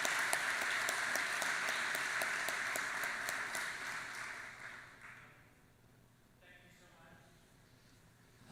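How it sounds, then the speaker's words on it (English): An audience at a Palmetto Bay village address applauds for Westminster and Scott Jones, a dense, steady round of clapping that tapers off into quiet room noise after about five seconds. "Let's give a round of applause for Westminster and Scott Jones."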